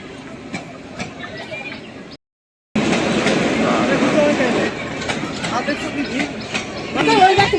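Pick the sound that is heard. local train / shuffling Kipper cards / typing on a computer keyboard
local train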